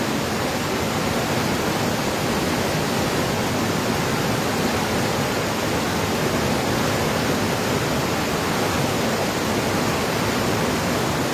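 A strong, fast river current running high, rushing continuously, a loud, dense roar of water with no breaks and no voices.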